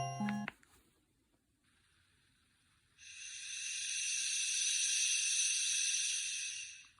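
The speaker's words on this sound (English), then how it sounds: "that's someone saying shh over and over." A Reacher R2 white noise machine plays a steady, breathy shushing hiss that rises at about three seconds and holds loud and continuous to the end, after a short tone at the start.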